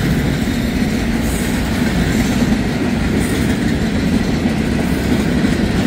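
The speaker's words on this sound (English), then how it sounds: "That's just a train." A freight train of empty steel coil cars rolls past nearby, a loud continuous rumble with steady clickety-clack from the wheels on the rails, constant throughout.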